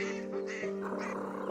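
A duck quacks in a farmyard, a short run of nasal calls over about a second and a half, close and moderately loud with no talking.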